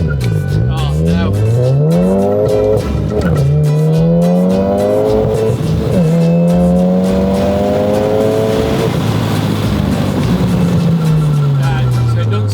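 A Volkswagen Golf R, a repaired Copart car, launches with its engine revving hard and climbing through gears, tyres squealing in between. The sound is loud and close throughout, with people talking over it.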